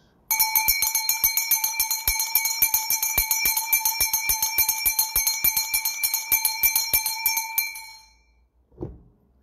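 A bell is struck again and again in a quick, fairly even rhythm, each ring bright and ringing, for about eight seconds before it stops, followed by a brief low thump.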